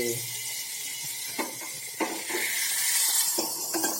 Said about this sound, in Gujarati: બટરથી આપણે આજે એનો વઘાર કરવાનો છે